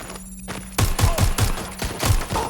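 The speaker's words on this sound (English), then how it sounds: "Gunfire!" Gunfire in the video game Watch Dogs: Legion: a rapid string of loud, sharp shots rattles off in close bursts over a low background hum, with a brief pause before the firing resumes.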